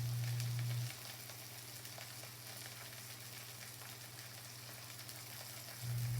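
Pork sausage sizzling and frying in a pan, a steady crackling hiss held at an even level throughout, with a low hum at the start and end.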